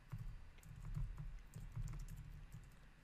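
Typing on a computer keyboard at a desk, a steady run of soft, close key clicks with irregular rhythm continuing throughout, no voices over it.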